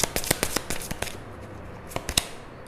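Tarot cards snapped and slid from a deck in a run of sharp, close flicks and rustles, with a quiet pause in the middle before a few more crisp snaps.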